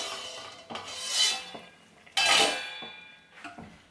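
Metal pot lid lifted off a pot of cooking chicken majboos, two bright clattering metallic scrapes and clinks about a second apart with a softer knock afterward, close and clear with no talk.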